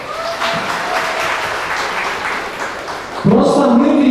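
Audience applause at a stand-up comedy tournament show, a steady wash of clapping from a room crowd that runs throughout and swells louder near the end, with a voice briefly rising over it.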